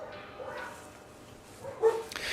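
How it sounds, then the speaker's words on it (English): Distant dogs bark in scattered bursts, with one sharper bark standing out near the end, faint and outdoors. "Goddamn dogs."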